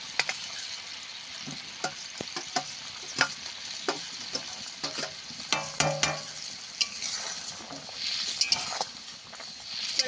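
Raw mango chutney with fried fish roe cooks in a pan, giving a soft bubbling simmer broken by irregular clicks and scrapes of a spoon stirring, quiet and close, with no voices.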